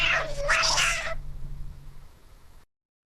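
A person imitates a cat's meow during a tabletop role-play session, a single drawn-out vocal mew near the mic, trailing off into quiet room noise.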